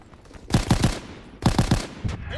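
Rifle fire from an AVS-36 in Call of Duty WWII: two loud bursts of three or four rapid shots each, about a second apart, followed by a single fainter shot, with no talking.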